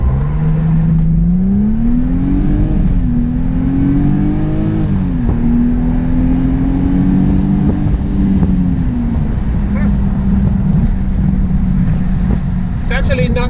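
A 2009 Mercedes-Benz SLK 280 pulls away from a standstill, its engine note rising through several gear changes, loud and steady from inside the car with wind and road roar.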